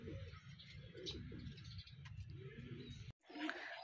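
Racing pigeons coo in soft, repeated throaty phrases close by, with faint background noise and a brief gap near the end.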